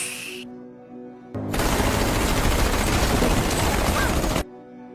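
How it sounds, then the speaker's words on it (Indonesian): A sustained, dense burst of rapid machine gun fire in a film, lasting about three seconds, loud and continuous, then cutting off abruptly into quiet. "Mereka semua lalu diberondong peluru hingga tewas."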